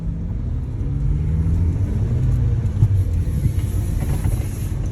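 A car engine accelerates during a driving lesson in a 30 km/h zone, a steady low rumble rising slightly as the vehicle pulls away, heard from inside the cabin.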